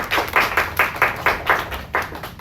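Second grade classroom of children clapping for classmates, about nine quick, fairly even bursts of claps in a short rhythmic round, close and moderately loud.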